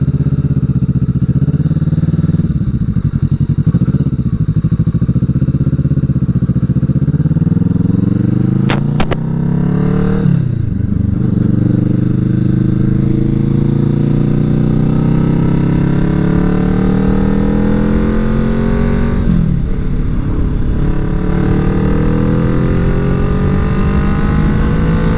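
A derestricted Kawasaki Vulcan S motorcycle accelerating hard through the gears toward its 9,500 rpm redline, engine pitch climbing in long rising sweeps with brief dips at each shift, loud and close with no talk.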